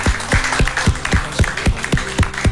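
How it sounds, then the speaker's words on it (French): Audience members at a ceremony clap in a steady, rhythmic unison beat, with loud, close claps repeating about four times a second. "qu'on applaudisse, qu'on ovationne les deux responsables des deux structures en applaudissant sur 1 minute"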